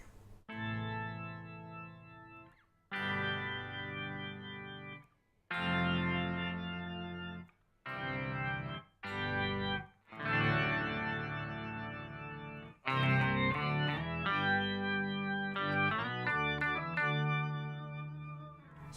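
An electric guitar through an Electro Harmonix POG2 octave pedal set for a pipe-organ-like tone with stacked octaves and detune. Sustained chords ring in separate phrases with short gaps, then quicker changing notes, full and loud with no talking.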